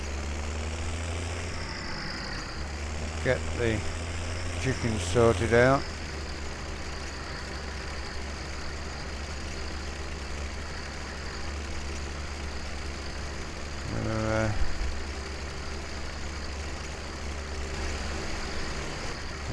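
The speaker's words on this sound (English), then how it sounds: "We'll take the loader tractor over to the farm" A loader tractor engine runs on a farm, a low, steady drone that continues throughout while a person talks over it at intervals.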